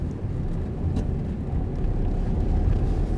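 Car accelerating gently in third gear during city driving, a steady muffled low engine and road hum heard from inside the cabin, slowly building without any speech.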